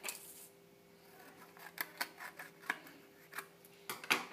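Faint, quiet snips and crisp clicks of scissors cutting paper, irregular and close, over a soft background hum.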